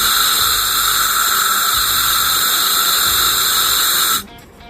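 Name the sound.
compressed air blown into engine valve port for leak test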